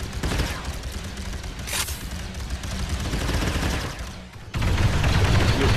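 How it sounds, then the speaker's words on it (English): In the video game Contractors, a loud, dense firefight of rapid gunshots and bursts plays continuously and close, with no pauses. "it's already a firefight"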